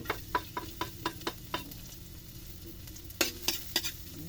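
Garlic and onion sautéing in a pan give a faint background sizzle broken by a quick run of sharp spatula scrapes, then a pause, then another cluster of louder stirring clatters near the end, with no voices.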